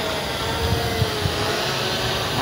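An SJRC F11 Pro 4K drone hovers close overhead, giving a loud, steady whirring drone with a few faint bumps and no speech.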